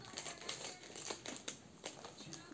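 Crinkly plastic packaging from a Shein clothing haul being opened, with repeated close, soft crackling and rustling bursts in an irregular rhythm and no talking.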